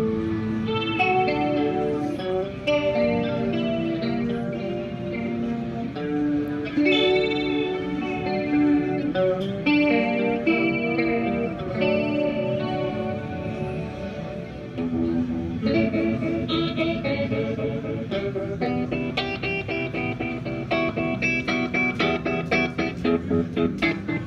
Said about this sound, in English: Some weird modulation stuff, all analog modulation, means chorus, flange, phaser, and tremolo all in one.